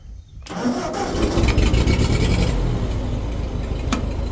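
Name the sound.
vintage tractor engine starting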